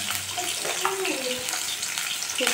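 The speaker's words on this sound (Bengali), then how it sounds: "গরম করে দিয়ে দিচ্ছি সর্ষের তেল, দিয়ে আমি এখানে আলুটাকে ভেজে নেব।" Potatoes frying in hot mustard oil, a steady crackling sizzle that runs the whole time, close and fairly loud, with a few stirring scrapes through it and no talking.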